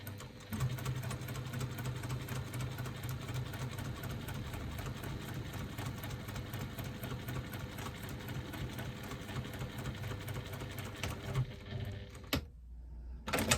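A sewing machine stitches strap panels together in one steady run, with a continuous motor hum and rapid needle chatter close by that stops abruptly near the end, with no talking.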